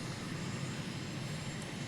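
Steady, faint whoosh and drone of an MB-339 jet trainer's engine during a lap of the Reno Air Races course in Microsoft Flight Simulator, an even sustained roar with no talk over it.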